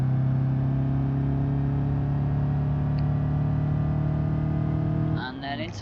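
A manual-gearbox car engine drones steadily on a motorway in third gear, holding a constant tonal hum at high volume before it eases off near the end as a voice begins speaking.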